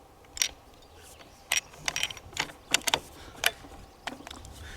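Cartridges are pressed one by one into a Magpul 700 rifle magazine, giving a run of sharp, close mechanical clicks and snaps spaced irregularly over a quiet background.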